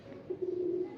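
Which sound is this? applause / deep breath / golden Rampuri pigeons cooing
golden Rampuri pigeons cooing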